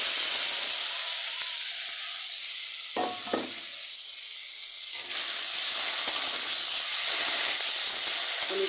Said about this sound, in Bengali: পনিরটা ভাজিনি, এখন পনিরটা আগে ভেজে নেব।